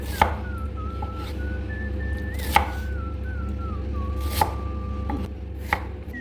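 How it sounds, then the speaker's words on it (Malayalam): Onions are chopped finely on a board in a few sharp, spaced knife strikes, close by, over a steady low hum with a faint wavering whistle in the background. "2 ഉള്ളി പൊടിയായിട്ട് അരിഞ്ഞിട്ടുണ്ട് നമ്മൾ അല്ലേ"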